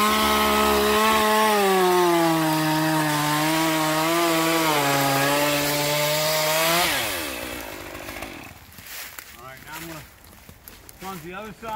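Climbing chainsaw making a plunge cut into a big dead ash tree, engine droning steadily under load for about seven seconds before dropping off to idle, with voices talking alongside.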